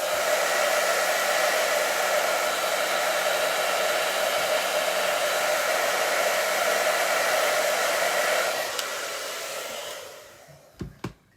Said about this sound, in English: I am gonna hit this with a hairdryer so don't drag my hand through it.